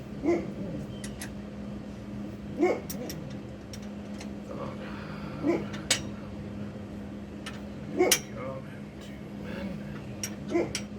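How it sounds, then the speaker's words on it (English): Dogs bark at intervals at a moderate distance, giving about five short, sharp barks spaced a few seconds apart over a steady low hum. "My dogs are going to be obnoxious now."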